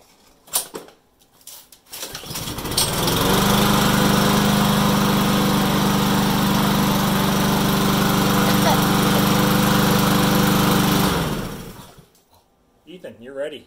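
A freshly serviced lawn mower pulls to life and runs at a loud, steady roar for several seconds before cutting out, with brief talk before and after.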